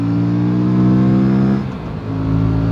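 An Aprilia RS 457 motorcycle engine accelerates hard, a loud close harmonic drone rising in pitch, then dipping briefly at a gear change before pulling again.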